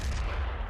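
A heavy weapon discharges in the Doom Eternal shooter game, a dense, loud boom with thick low rumble filling a short burst, no voices over it.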